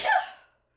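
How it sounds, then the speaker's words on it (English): A single short sneeze, loud and close, bursting out and fading within half a second. "I'm going to sneeze."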